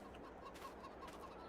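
Chickens cluck faintly in a farming video game set on a British farm map, giving a quiet run of repeated short calls over a low, steady background.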